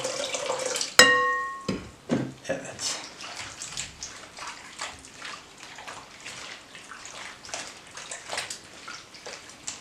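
Water poured from a two-litre supply into a container for homemade lemonade, a splashy stream near and fairly loud after a sharp clink, tapering into gentler trickling and splashes.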